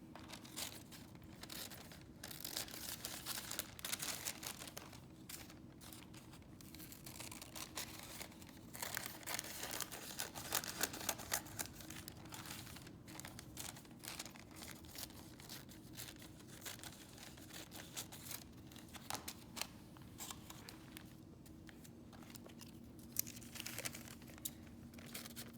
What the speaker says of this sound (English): I'm just going to cut out this female figure